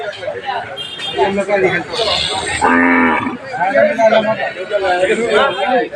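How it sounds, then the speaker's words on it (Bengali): A cow moos loudly in a single long call at a cattle market amid busy surrounding chatter and voices, with other animal sounds mixed into the crowded scene. "এই পাশেও কিছু গরু আছে"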